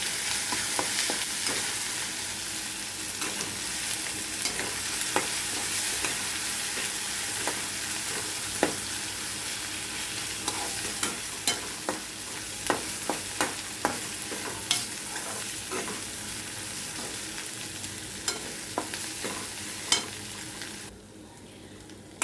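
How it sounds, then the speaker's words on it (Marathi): Garlic and cumin paste fries in a pan over low heat with a continuous close sizzle. Scattered scrapes and clicks of stirring run through it until the sizzle cuts off near the end. "लसूण जिऱ्याची पेस्ट छान परतली आहे"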